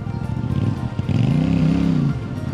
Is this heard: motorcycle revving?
yes